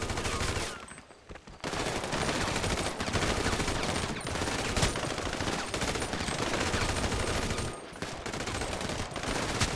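Sustained, dense automatic gunfire in a modded GTA 5 game, loud and continuous over about ten seconds, with two brief dips and no talk.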